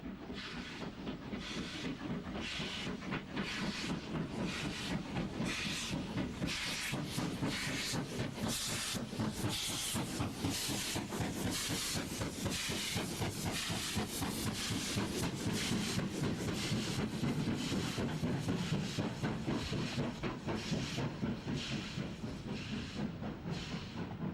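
Steam locomotive hauling a train up Miles Platting Bank out of Manchester Victoria without banking assistance, a loud, steady hiss and roar with rapid rhythmic exhaust beats running throughout, close and continuous.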